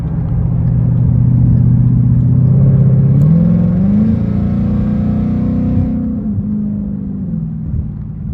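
A supercharged 2015 Roush Mustang GT with its exhaust baffles partly opened revs up from a rumble to a rising engine note, then eases back down, heard close and loud.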